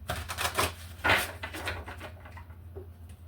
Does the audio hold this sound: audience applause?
no